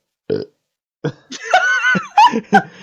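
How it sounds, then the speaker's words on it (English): A loud, drawn-out burp followed by short bursts of laughter and snickering, close up. "they just share a burp"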